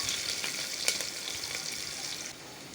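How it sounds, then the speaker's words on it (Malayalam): Chopped onion is stirred in a cooking pan while making vegetable masala khichdi, a steady close sizzle of frying with scraping clicks from the spoon, no talking. "ഒരു സവാള അരിഞ്ഞത്, അതിനെയും നല്ലതുപോലൊന്ന് ഇളക്കി കൊടുക്കാം"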